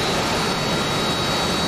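Single-engine jet aircraft in a combat flight video game, a steady loud roaring drone that stays constant and close throughout, with no talk over it.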